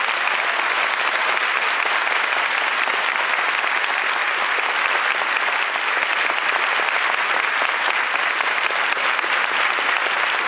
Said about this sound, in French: Et un fort applaudissement pour ce Dieu vivant.